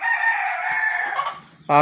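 A rooster of a native village chicken breed crows in one long, drawn-out call, then a short, sharp cluck breaks in at the end.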